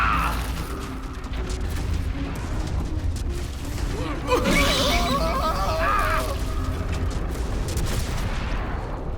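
A huge explosion of fumes ignited by a torch in Baldur's Gate 3: a dense, loud, rumbling roar that swells sharply partway through and keeps crackling and booming to the end.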